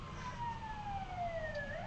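An emergency vehicle siren wails in Los Angeles, faint and distant, with a slow falling tone over low traffic rumble.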